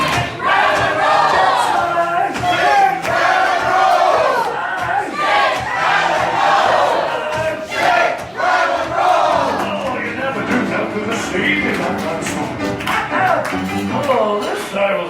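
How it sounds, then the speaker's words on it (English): A large crowd at a sing-along show in the River Roost lounge at Disney's Port Orleans Riverside Resort yells and cheers loudly and continuously, with whoops and scattered claps mixed into the roar. "everybody on that side of the room jumped up and started yelling"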